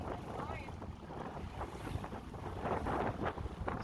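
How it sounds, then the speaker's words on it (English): A Tracker Grizzly jon boat runs on a river, its engine a low, steady drone underneath heavy wind buffeting the microphone, with water rushing and slapping along the hull throughout. "boat's running good"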